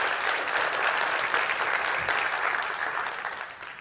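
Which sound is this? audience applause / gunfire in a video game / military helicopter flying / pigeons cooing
audience applause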